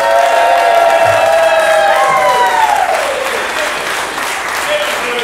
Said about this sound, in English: Big round of applause for Boudreaux